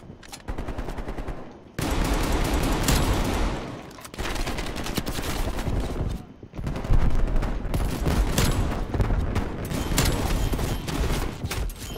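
A Street Sweeper shotgun fires in Call of Duty Cold War multiplayer: fast, loud strings of shots in dense bursts, broken by a few short pauses for reloading and movement.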